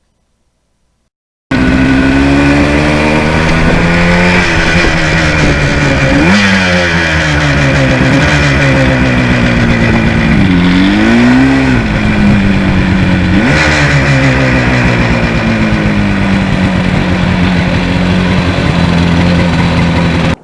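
Yamaha RD two-stroke motorcycle engine on a ride, loud and close, starting abruptly after brief silence, then holding a buzzing drone with repeated rises and falls in revs as it accelerates and shifts, with no talk.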